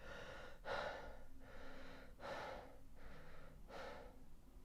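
A person demonstrates fast, shallow breathing, with three quick, sharp inhalations at regular intervals, close and fairly quiet, against soft background noise.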